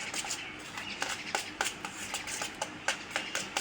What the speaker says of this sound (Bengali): এখন কিন্তু আবার হচ্ছে ব্যাটারটা এরকম করে নেড়ে চেড়ে নিতে হবে।